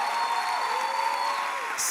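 A large church congregation breaks into sustained applause, a dense steady wash of clapping that fills the room evenly from start to end, with a faint tone lingering beneath.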